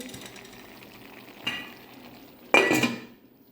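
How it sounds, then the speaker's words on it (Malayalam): A spoon stirring avial vegetables with green chilli and curry leaves in a pot, heard as two scraping knocks against the metal, the second louder and longer, over a quiet background. "എന്നിട്ടൊന്ന് ഇളക്കിയിട്ട് നന്നായി ഇളക്കിയിട്ടൊന്ന് അടച്ചു കൊടുക്കുക"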